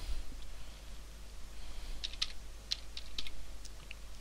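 Light, quick keystrokes tap on a computer keyboard against a steady low hum, a short run of clicks typing a command.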